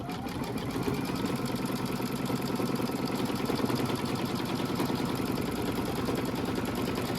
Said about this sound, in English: Tack down stitch always goes around twice.